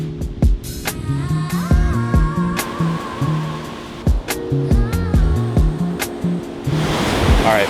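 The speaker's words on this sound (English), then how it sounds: "We're gonna go onto the beach now." Ocean surf washing onto a beach beside a seaside restaurant, a steady broadband roar with a wind-like rush, loud and continuous under tonal background music throughout.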